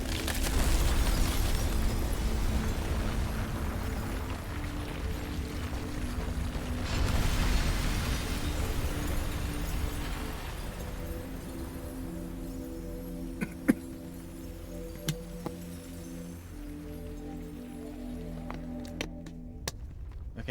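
A crystal shatters in an explosion in Final Fantasy XVI, heard as a loud, roaring rumble lasting about ten seconds. It then settles into a steady humming drone with a few sparse clicks.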